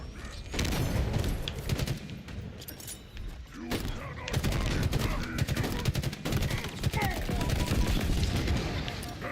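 A magazine-fed 12-gauge Bulldog shotgun fires repeatedly in Halo Infinite amid dense combat noise, heavy blasts recurring across the span with clattering between them, and a voice talking over the action.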